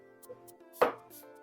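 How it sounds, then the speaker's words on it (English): A knife cuts through carrots on a cutting board, giving one sharp close chop with a few faint lighter taps around it. "I'm going to take these carrots and I'm going to cut these carrots like a nice, pretty, fancy shape"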